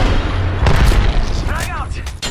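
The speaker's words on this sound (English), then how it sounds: "Grenade!" A grenade goes off in a shooter video game, a loud, dense burst of booming noise with a heavy low-end rumble amid continuous battle sounds, with a voice briefly heard.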